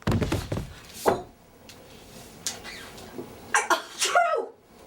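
A single sneeze bursts out abruptly amid scattered short knocks and thuds, with a couple of brief throaty sounds after it and no continuous talk.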